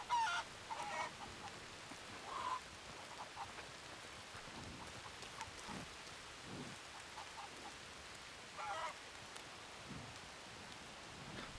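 Chickens cluck faintly in steady rain in the video game Red Dead Redemption, with a few soft honk-like fowl calls scattered through a continuous patter of raindrops.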